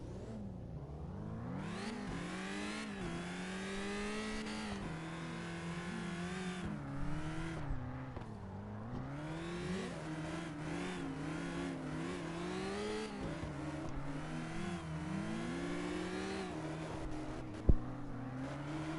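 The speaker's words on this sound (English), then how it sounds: "God, this car sounds good." A Toyota Celica drifting in the CarX Drift Racing video game, its engine revving steadily with rising and falling pitch under load, accompanied by tire squeal, loud and continuous throughout.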